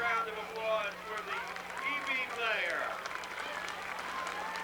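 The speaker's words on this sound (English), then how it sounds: "Crowd starting to applaud." Crowd applause swells at a 1990 high school football game between East Brunswick and Sayreville, a steady roar of clapping and voices with a commentator talking over it throughout.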